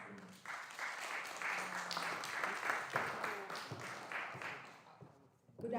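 A big round of applause from the audience at a men's mental health and wellness conversation event, steady dense clapping filling the room for several seconds, with voices mixed in, before fading near the end.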